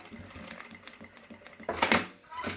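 A sewing machine stitches a seam in short bursts, its needle tapping in a rapid rhythmic chatter that pauses and resumes, close and moderately loud.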